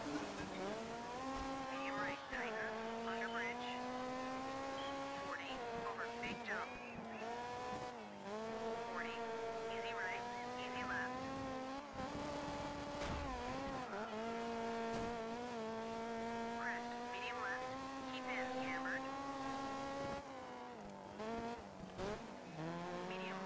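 Race car engine in the Dirt 3 racing game driving downhill, a steady high revving whine with shifting pitch and brief tire squeals, under loud continuous game audio and occasional voices.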